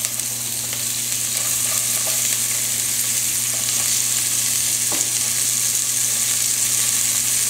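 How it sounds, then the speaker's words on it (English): Diced celery, carrots and onion sizzle in a pot just after lamb shanks were browned and removed, a loud, continuous close crackle with occasional scrapes of stirring and no voices. "we're going to remove them from the pot, and we're going to add our mirepoix"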